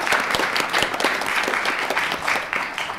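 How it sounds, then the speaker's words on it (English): Audience applause fills the room after a panel is introduced at a law school event on international project finance, a steady dense patter of many hands clapping throughout. "you take all the applause you can and then you run"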